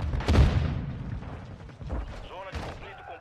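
Gunfire and impacts in a shooter video game, a heavy booming burst near the start followed by scattered thuds and a later crack, loud and close, mixed with voices talking over the action.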